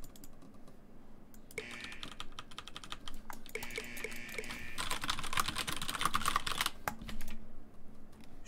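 Rapid, irregular clatter of computer keyboard keys being mashed while playing Trombone Champ, dense bursts of clicking that swell louder mid-clip, with tonal game notes faintly underneath and no talking.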